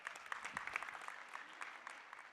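A small audience gives a brief, thin round of applause at a tech conference presentation, scattered claps fading quickly, fairly distant and not very loud.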